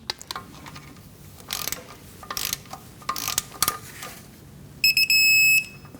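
Ratchet torque wrench clicking as it tightens the oil drain bolt on a 2015-2024 Nissan Murano 3.5L V6 with a new copper washer, a scattering of short close clicks and bursts, ending in a steady shrill tone.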